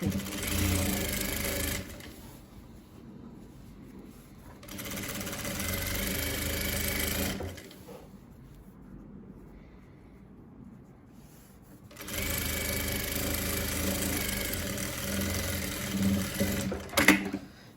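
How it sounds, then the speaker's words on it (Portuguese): A sewing machine stitches the hem of a cotton dish towel in three bursts of steady, close whirring. The motor runs for several seconds at a time, with quiet pauses between bursts and a brief clack near the end. "dá o retrocesso e vem costurando"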